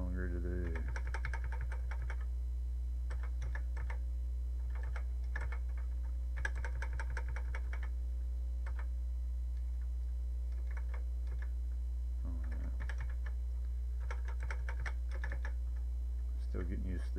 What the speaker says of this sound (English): Still getting used to these cursor keys.